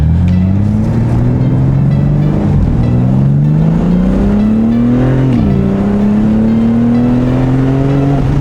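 BMW G80 M3 exhaust with catless downpipes on a stock tune, revving loudly and steadily, its engine note climbing through gears with a brief dip and shift before rising again, close and continuous throughout.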